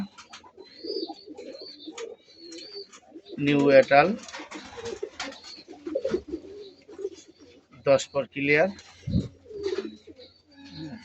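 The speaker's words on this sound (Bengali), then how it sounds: "খুবই সুন্দর একটা জোড়া গোল্লা কবুতর বলা যায় গররাও বলা যায় পারফেক্ট সুন্দর একটা কবুতরের জোড়া" A pair of sky-blue domestic pigeons coo near at hand, with low rolling coos and a few soft chirps, while someone talks over and between the calls.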